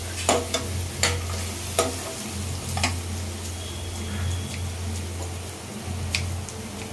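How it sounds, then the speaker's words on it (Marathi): Browned onion with a dry ground masala paste fries in a pan for Malvani kaleji masala, with a steady low sizzle broken by regular spoon-stirring scrapes and clinks, close up and with no talk. "हलकासा कांदा लाल झाल्यानंतर आपण यात वाटप घालायचं, सुकं वाटप"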